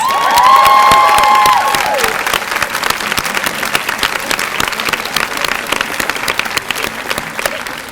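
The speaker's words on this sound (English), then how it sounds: "let's give them another round of applause" Audience applause for graduates at the Bennington College conferring of degrees ceremony: sustained, dense clapping from a large crowd, with a voice over it in the first moments.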